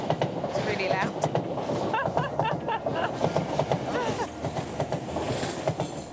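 A new London Crossrail train runs loudly, a steady heavy rumble with clattering wheels heard from inside the cab, while people talk over the noise.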